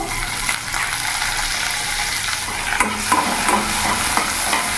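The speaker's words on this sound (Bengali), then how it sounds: "পেঁয়াজটা কিছুক্ষণ ভেজে নেবো যাতে পেঁয়াজের কাঁচা ভাবটা চলে যায়।" Onion and tomato fry in a pan, a loud, close, continuous sizzle with a spoon stirring and scraping at intervals, and no one speaking.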